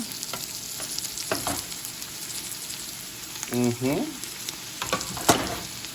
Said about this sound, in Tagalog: Lalagay na po tayo ng ating mga igigisa, siyempre.